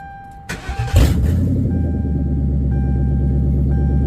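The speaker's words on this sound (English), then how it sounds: "It sounds like a damn stock car." A 1999 Crown Victoria with an upgraded exhaust cranks and catches, then settles into a loud, steady, deep idling rumble close by.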